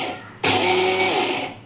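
An electric mixer grinder kicks on abruptly and whirs loudly and steadily as it grinds thick idli batter without added water, close to the listener.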